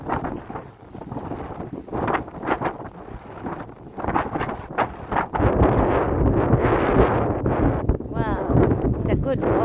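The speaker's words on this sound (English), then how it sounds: "It's really strong wind" Strong wind buffeting a microphone while strolling by a beach, heavy roaring gusts that grow louder toward the end, with someone talking over it.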